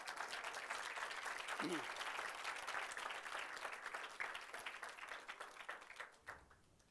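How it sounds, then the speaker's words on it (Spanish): Applause from a live audience at a talk on love and intuition, steady broadband clapping that thins and fades out toward the end, with a brief voice early on. "Un aplauso a,"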